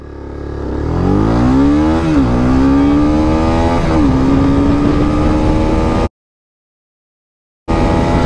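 Honda CB300R 300cc motorcycle accelerating hard through the gears, the engine note climbing steadily with brief dips at each upshift, loud and close, then cutting out abruptly to silence before briefly resuming.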